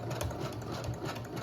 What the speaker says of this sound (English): And you're going to zigzag close to the edge.